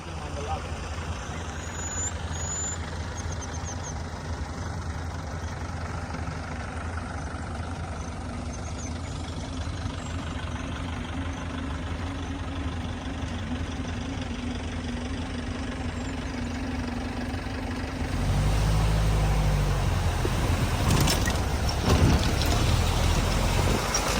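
A safari truck engine idles and runs with a steady low rumble, heading out on an elephant safari in Sri Lanka; the engine grows louder and rougher near the end as it revs up.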